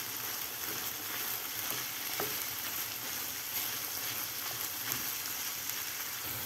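Minced meat and onion fry in a pan with a faint, even crackling sizzle and a few soft stirring scrapes, quiet and continuous with no voices.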